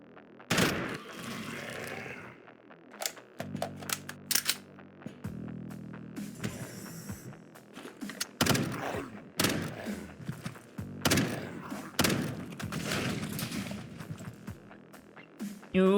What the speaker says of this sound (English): keep lobbing grenades at each other